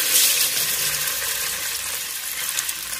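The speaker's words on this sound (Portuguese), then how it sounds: "Panela aquecida, você vai colocar a posta de salmão com a pele para baixo." A salmon steak sears skin-side down in a heated pan with olive oil, giving a bright, steady sizzle that starts strongly and settles into a constant crackle, close and without talk.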